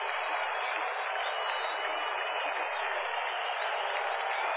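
Steady roar of a stadium crowd in the Blood Bowl 2 video game, a constant mid-range wash of cheering with no pauses, heard alone.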